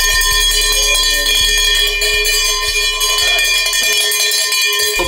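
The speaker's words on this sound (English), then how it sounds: "Bells activated. You hear this shit?" Repeated bright metallic clanks of cowbells ringing loudly and steadily at a Mississippi State University football game day, with a dense shimmering overtone wash and no voices.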